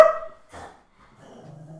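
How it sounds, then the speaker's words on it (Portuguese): A dog barking indoors during a business talk: one sharp bark, a second short yap, then a softer whimpering tail, close and fairly loud with no talking. "hoje o cão lembrou-se de estar aqui a ladrar"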